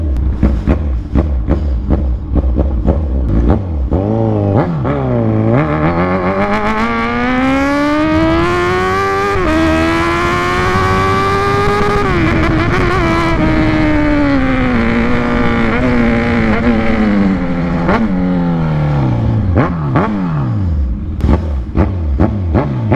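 A Kawasaki Z1000R with a single titanium exhaust roars loudly up close, the engine revving and climbing through the gears in long rising sweeps before easing back down, continuous for over twenty seconds.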